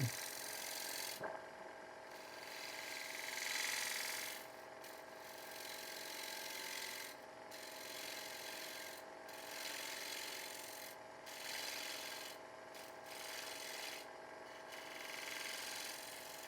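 Wood turning on a lathe as a tool shapes the lip of a wooden utility box: a steady, faint scraping rasp with a few brief pauses as the cut lifts off, no talking.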